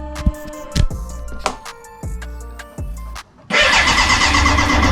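A BMW K100 motorcycle engine, left unstarted for 22 years, cranks in several short starter bursts, then catches and roars into a loud, steady run close by.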